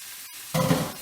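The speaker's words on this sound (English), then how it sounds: "I can see my garlic sizzling. So I'm going to take my leaves, I'm just going to pop them right over my garlic." Garlic and dandelion leaves sizzling in a frying pan. Quiet at first, then leaves drop in and a loud, close hiss and crackle of frying rises.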